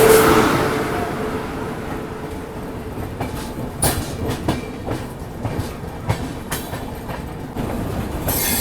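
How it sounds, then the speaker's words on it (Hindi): Mumbai Amritsar Express rolling over points as it switches lines onto the main line, a steady rumble of railcars with irregular clicks and clacks from the wheels over the rail joints, close by. "अभी देखो कैसी लाइनें चेंज कर करके मेन लाइन पे पहुंच रही है मुंबई अमृतसर एक्सप्रेस।"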